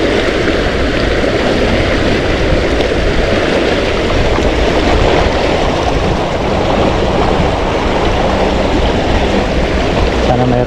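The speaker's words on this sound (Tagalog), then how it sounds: "Pa-high tide po yan pag ganyan ang bulwak." Seawater gushes hard through a narrow sea channel at high tide, a loud, unbroken rushing roar that runs the whole time with no voices.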